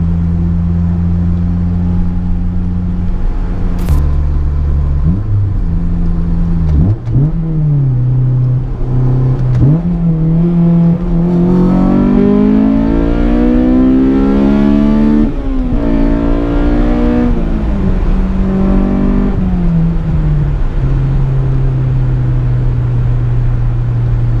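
Honda S2000 heard from inside while cruising, its engine drone holding steady, then rising and falling through several rev sweeps in a loud, continuous tone.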